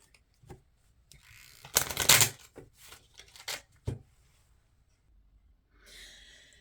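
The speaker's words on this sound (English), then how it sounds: "One more little shuffle." Several bursts of oracle card shuffling, rustling and riffling, with a dense riffle in the middle and softer handling before and after.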